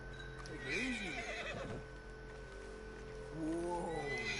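Horse neighing in the video game Red Dead Redemption 2, two drawn-out whinnies near at hand, the first early and the second near the end, over steady game ambience and faint hoof clops.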